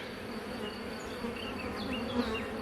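Honeybees buzz in a steady, dense hum from an opened hive as the brood frames are inspected; the sound is fairly soft, continuous and free of talk.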